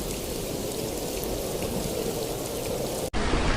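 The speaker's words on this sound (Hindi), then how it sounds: "शाम होते होते बारिश इतनी तेज हो गई कि गांव में हर जगह पानी जमा" Heavy rain pouring steadily over a village at dusk, a dense, loud and continuous hiss that breaks off abruptly near the end.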